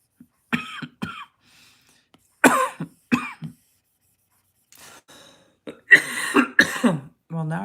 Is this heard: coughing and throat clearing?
yes